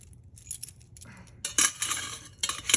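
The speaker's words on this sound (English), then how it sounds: "these thing of keys" A bunch of old keys jangles and clinks in bursts, close and fairly loud, with metallic rattles coming and going over a few seconds.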